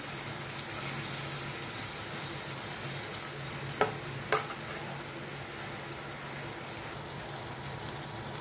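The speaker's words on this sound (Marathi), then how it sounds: "हे आपल्याला चांगलं सर्व मस्त असं एकदम फ्राय करून घ्यायचं आहे" Vegetables fry in a hot pan with a steady, even sizzle throughout, broken by two sharp clicks of a utensil against the pan.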